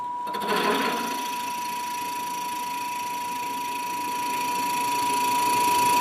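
Wood lathe spinning at about 800 RPM while turning a tool handle, a steady motor hum with a constant high whine, a brief louder burst near the start, then an even drone throughout.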